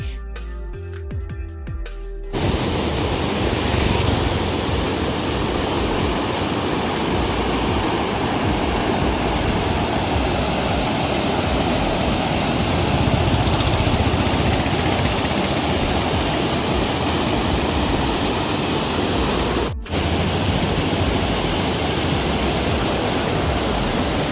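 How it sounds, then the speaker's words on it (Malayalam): Loud, continuous roar of the muddy, flooded Bharathapuzha river at Chamravattam, dense and unbroken, with a brief quieter moment at the very start. "അപ്പൊ നിങ്ങൾ കേട്ടില്ലേ വെള്ളത്തിന്റെ സൗണ്ട്?"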